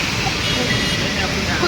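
Heavy rain pours in a steady, dense broadband rush, close and continuous throughout, with no pauses and no voices rising clearly above it.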